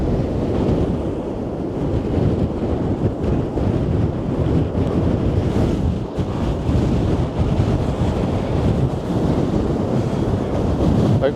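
Stormy sea waves churn at a Blackpool high tide, with a continuous loud roar of surf and heavy wind buffeting the microphone. No voices are heard.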